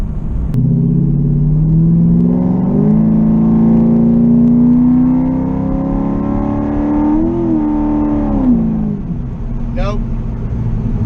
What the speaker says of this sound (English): That was a 3/4 throttle, not even 3/4 throttle shift